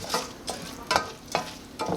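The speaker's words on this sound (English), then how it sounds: "I'll be cooking this until the rice turns into like a light golden brown" Rice frying and sizzling in a pan for Mexican red rice, a steady crackling hiss broken by a spatula scraping and stirring about every half second, close and moderately loud with no talking.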